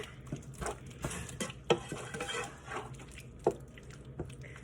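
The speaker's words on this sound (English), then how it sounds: "So now I am cooking the shrimp." Shrimp for Cajun shrimp pasta cook in a pan, giving a soft sizzle under scattered stirring, scraping and clinking of a utensil against the pan, with a few sharper knocks standing out.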